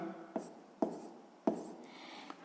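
Pen or pencil strokes on paper while working out a sixth-grade math percentage problem, three distinct scratchy taps at a steady pace with a fainter fourth near the end, close and quiet.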